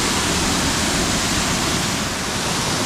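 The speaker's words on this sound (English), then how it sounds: "We found the waterfall." Steady, loud rushing roar of the Nant y Ffrith waterfall in Wales, a dense unbroken wash of falling water close by with no voices.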